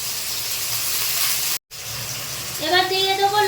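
Potatoes dropped into hot oil in a wok sizzle with a broad hiss, joined near the end by rising bubbling frying tones after a brief gap.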